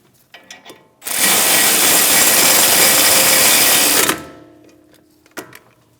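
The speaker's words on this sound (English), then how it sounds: "Snug the bolts down." A power tool snugs down the front brake bolts on a 2010-2015 BMW X1 xDrive, giving one steady, loud whirring buzz of about three seconds. Light clicks and taps from handling come before and after it.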